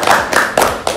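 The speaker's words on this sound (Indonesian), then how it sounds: "Berikan tepuk tangan dong." Hands clapping at a school student-council candidate podcast event, a few loud separate claps close by, with no talk over them.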